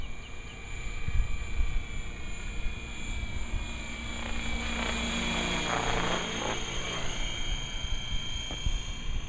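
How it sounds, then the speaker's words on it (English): A Trex 550e V2 radio-controlled model helicopter's whirring rotor and high electric motor whine hover nearby, steady with slight pitch shifts, no speech over it. "Sounds like a fucking real helicopter, dude."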